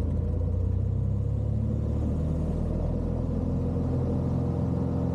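Light twin-engine aircraft with mixtures in and props high, throttling up on the runway for takeoff: a dense, steady low engine rumble heard from inside the cabin, loud and continuous without speech.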